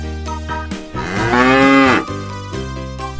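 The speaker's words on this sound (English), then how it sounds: "Number 6. Cow." A cow on a farm gives a single long, loud moo that swells and falls, with shorter animal calls briefly before and after it.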